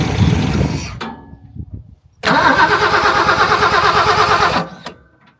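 A Ford Falcon XL ute with a rebuilt carburettor cranks and fires, then roars loudly at a steady fast idle for about two seconds before cutting out, after an earlier short rough crank and stumble.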